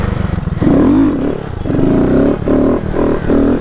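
A Honda Grom motorcycle engine revs in repeated throttle blips during wheelie practice, loud and close, rising and falling in pitch with short dips between pulls.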